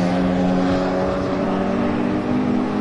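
Onboard a Martini-liveried Porsche race car at Rockingham, the engine drones loud and close with steady harmonic tone, a brief dip in revs partway through, no voices.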